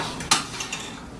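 Glass petri dishes of different sizes handled near a microscope, giving one sharp close clink followed by two fainter light taps, with no voices.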